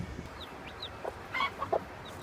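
Chicks peep in short high chirps over a low background murmur of a hen in a protected brooding pen, several faint calls scattered across a couple of seconds.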